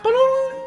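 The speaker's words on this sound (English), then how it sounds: "That noise you hear is my phone being put on the charger" A phone set onto its charger gives a short electronic chime, a clear tone that rings for about half a second and then fades, alone with no talking.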